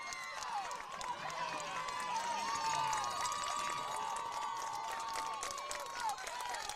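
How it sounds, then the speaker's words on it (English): Crowd at a Point Pleasant girls' high school soccer match clapping and cheering for departing seniors. The applause is a distant, steady wash with a high whistle-like ringing over it, and a commentator talks throughout. "Point Pleasant fans getting to their feet, applauding a couple of their seniors who have come off"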